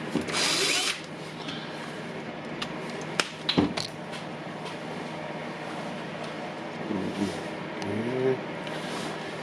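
Power screwdriver driving screws into the housing of a Makita 840W 125 mm angle grinder, model 9558HNR, during repair: a short loud whir at the start, then clicks and small mechanical clatters, alone and close.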